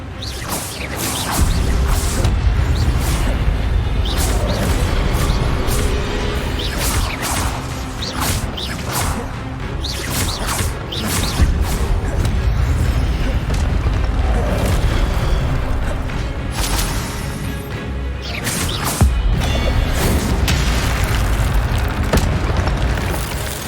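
A spell effect in a Harry Potter video game, a dense, sustained rumble of booming blasts and whooshes that stays loud and full for the whole stretch, with repeated impacts cutting through.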